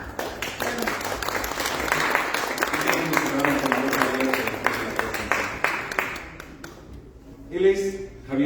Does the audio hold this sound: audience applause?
yes